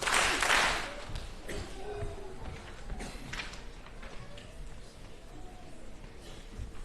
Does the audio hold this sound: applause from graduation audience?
yes